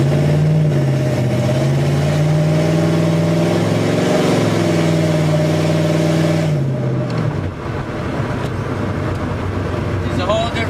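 Ratty LS-swapped Pontiac Firebird with open exhaust revs hard from the cockpit, a loud rising engine drone that holds steady for several seconds then drops off, while a voice talks over it.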